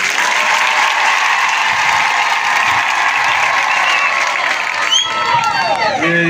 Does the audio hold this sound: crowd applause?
yes